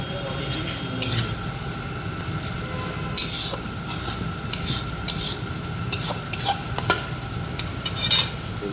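Fish and dried mango being stirred in a pan for a sour fish curry, with scattered scraping clinks of a utensil against the metal over a steady low kitchen rumble; no talking.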